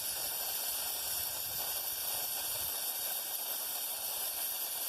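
A steady, loud hiss of liquid propane rushing out of a nozzle under pressure, continuous and unchanging throughout, with no other sounds.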